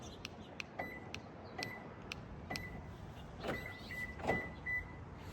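A 2014-2019 Toyota Corolla with a Start-X remote start kit is triggered by pressing lock on the factory fob three times. A quiet series of sharp clicks and short electronic chirps follows, with no talk.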